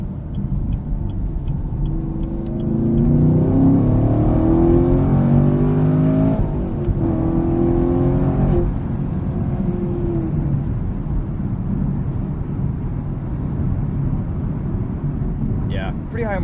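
A 2018 Chevrolet Camaro 2SS with a six-speed manual gets on the highway at night, a loud steady engine drone rising in pitch as it accelerates and then settling into a continuous cabin rumble, with talk over it.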